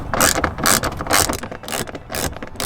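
A socket ratchet unscrews the side mirror screws on a Ford Transit Connect van, giving close, repeated bursts of rapid clicking in an uneven rhythm with no talk.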